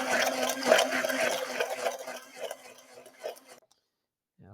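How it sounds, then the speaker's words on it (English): An immersion blender buzzes loudly through vegan mayonnaise for several seconds, its motor hum wavering as it works, then cuts off abruptly into silence, followed by a brief faint rustle. "we'll get that immersion blender going in here, and we'll start to blend it and mix it up."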